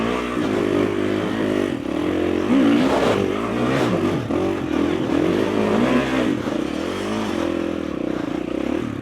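An enduro motorcycle races hard through a cross-country test, its engine roaring loud and close for the whole stretch, with rising and falling revs as the rider works the throttle over rough off-road ground.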